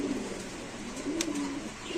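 White racer pigeon cooing softly nearby, a low rolling coo repeated over a couple of seconds against quiet background noise.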